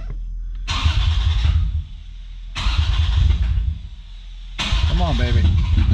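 A 2002 Lexus IS300 with 142,647 miles and no catalytic converter cranks and fires in three repeated start attempts, each a loud burst of starter and engine roar, with voices talking over it.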